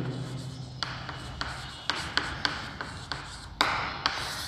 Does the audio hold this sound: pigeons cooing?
no